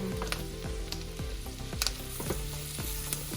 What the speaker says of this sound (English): we're gonna saute first the onion and mushroom